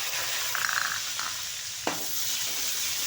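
Tomatoes frying in a pan for mash dal, a soft steady sizzle with a faint stirring scrape partway through and a brief clink near the end, no talking.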